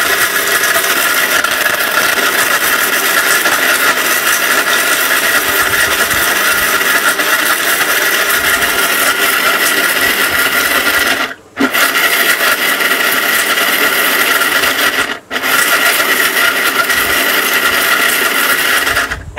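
A Tata blender grinds turmeric into powder with a loud, continuous high-speed whirring roar that stops briefly twice before starting again.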